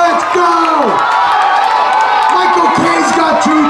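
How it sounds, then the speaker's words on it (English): A crowd at a Labor Day weekend competition cheers and whoops for the competitors while an announcer's amplified voice talks loudly over the noise. "give it up. Cheer them on."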